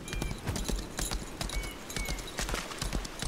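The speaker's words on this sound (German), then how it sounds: "Dann reiten wir doch mal da rum." Horse hooves clip-clop in a steady trotting rhythm as a character rides in the video game Lost Ark, loud and close, with a faint voice now and then.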